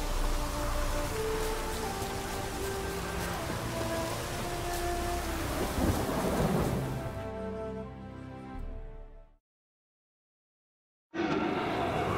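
Dense, steady rain with a low rumbling thunder undertone in the video game The Witcher 3: Wild Hunt, fading out abruptly into silence before returning just as suddenly at the end.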